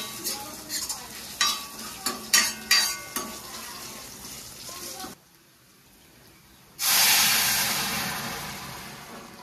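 Utensils scrape and clink in a pot of mung dal, a brief hush follows, then hot tempering (phoron) is poured in and a loud, sudden sizzle bursts out and slowly fades.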